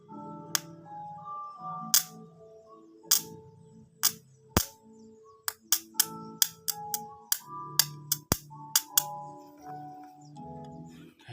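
Electric sparks from solar panel wires give a series of sharp, irregular snaps and cracks, some in quick bursts, over a quieter background hum.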